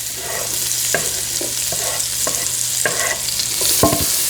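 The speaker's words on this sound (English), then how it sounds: "you're gonna cook your onions for a couple of minutes until they get nice and translucent and fragrant." Onions stir and sizzle in melted butter in a pan, a steady close frying hiss broken by repeated scraping strokes of the spoon.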